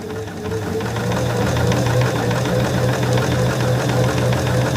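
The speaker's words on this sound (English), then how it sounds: "I'm just sewing my strap here." A sewing machine stitches a strap for a baby bath apron, running steadily with a rapid continuous mechanical hum and fast rhythmic needle knocking, close and moderately loud, with no talk.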